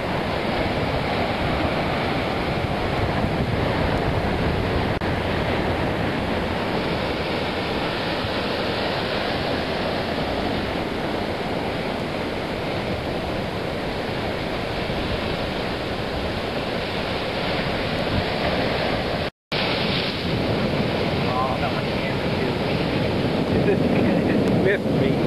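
Rough ocean water crashes against a breakwater protecting a fishing-boat cove, producing a constant loud roar of surf mixed with wind buffeting the microphone, with one brief dropout near the end.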